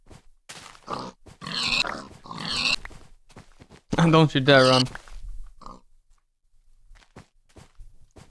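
Pigs grunt and oink in a Minecraft-style video game, short snorts among footsteps, while someone speaks loudly over them in bursts.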